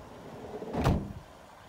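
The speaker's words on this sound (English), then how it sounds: "you see you've got your sliding door just here." A Volkswagen Transporter panel van's side sliding door is opened with one short, fairly close rolling clunk about midway through, set against a quiet background.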